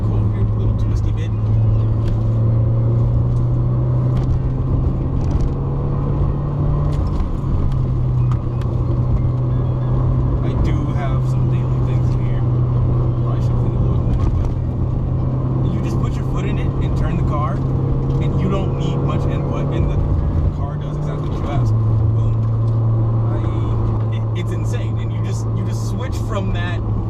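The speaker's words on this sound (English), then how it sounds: "then you just downshift and let the engine rev out" Engine of a manual-transmission Mazda droning steadily while driving a twisty road, a low loud tone stepping in pitch with downshifts and revving out, with cabin noise and a person talking throughout.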